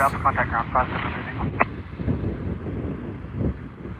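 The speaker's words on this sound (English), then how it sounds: "And one about to go on takeoff." A small airplane's engine drones faintly at an airport during run-up before takeoff, with a slight crosswind. A steady hum runs under close, ongoing talk, with some wind noise on the microphone.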